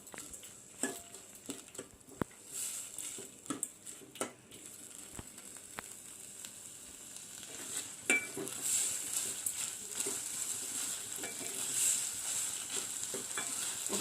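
Chopped green chillies fry in oil in a pan for horse gram soup, giving a soft steady sizzle with scattered clinks and scrapes of stirring and utensils against the pan.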